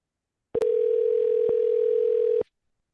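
A steady electronic tone sounds on an outgoing phone call, a single unbroken beep of about two seconds that starts and stops abruptly, loud and alone.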